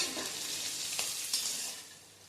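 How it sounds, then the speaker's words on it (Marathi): Finely chopped capsicum sautéing in a pan for vegetable pulao, a steady broadband sizzle with a couple of brief stirring scrapes, no voices. "मिरचीचा कच्चेपणा जाईपर्यंत आपण हे परतून घेणार आहोत."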